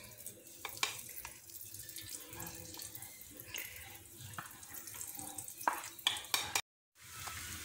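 Unniyappam batter poured bit by bit into hot oil in an appam pan, soft bubbling sizzle with scattered spoon clinks and pours, fairly quiet and close, ending in a brief silence.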